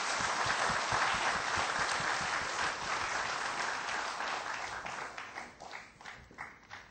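Audience at an award ceremony applauding, a dense, loud wash of clapping from many hands that gradually thins into scattered individual claps toward the end.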